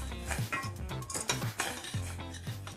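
Sugar and five-spice powder being stirred into a pork belly sauce in a pan, with a steady run of utensil scrapes and clinks against cookware, close and moderately loud, no talking.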